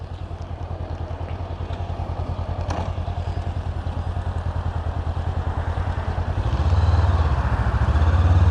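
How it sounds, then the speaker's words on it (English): A Thai big bike motorcycle rumbles along with a steady, pulsing low engine note that swells louder near the end, with light clatter and wind over the ride. "Thankfully I'm on a motorcycle."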